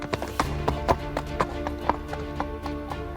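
Horse hooves clip-clop in a steady, even rhythm as a rider sets out on horseback, fairly close and clear, over a faint background hum.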